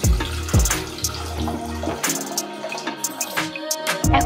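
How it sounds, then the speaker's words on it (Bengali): Tap water pours and splashes into a pot for boiling eggs in a home kitchen, a close, bright running stream with gurgling shifts as the pot fills, over faint background music. "এখন আমি জল দিয়ে দিব।"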